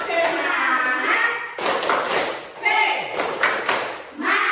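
Schoolchildren in a classroom clap and tap in bursts along to a spirit chant, with voices chanting between the loud, close, rhythmic claps.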